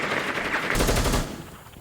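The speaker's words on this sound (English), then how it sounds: "Lag does get the frag onto Mortal." Rapid bursts of gunfire in a competitive shooter video game match, loud and dense, with rattling automatic fire overlapping other shots for under two seconds.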